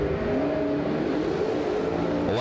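Third-generation Chevrolet Camaros at a drag race, a loud sustained engine roar heard from a distance, rising in pitch at the end.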